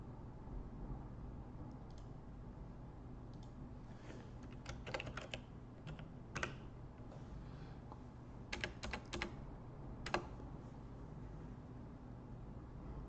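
Keys tapped on a computer keyboard in scattered bursts of clicks over a steady low hum, close and fairly quiet, with no talking.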